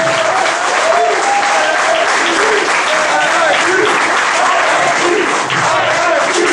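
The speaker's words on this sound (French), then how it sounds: "Applaudissez-vous." A crowd at the launch of a Laval chapter of a political group gives loud, sustained applause that fills the room without pause. Scattered voices and cheers sit underneath the clapping.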